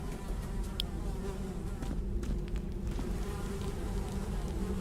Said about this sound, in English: Despite the buzzing flies, you hear the faintest sound of rushing water that seems to be coming from the farthest hole.